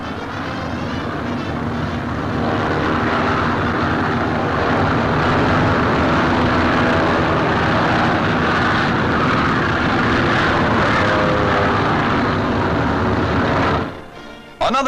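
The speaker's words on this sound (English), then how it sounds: "As the transports take off, General Brereton wishes them Godspeed." Military transport aircraft taking off in a 1944 wartime newsreel, a loud, steady engine roar that holds for about fourteen seconds and then cuts off abruptly.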